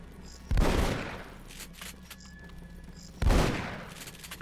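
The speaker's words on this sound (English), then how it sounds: "this is the fireworks" Two loud, booming firework bursts go off in the video game Aliens: Dark Descent, each crackling and then fading, spaced about three seconds apart, with no talking.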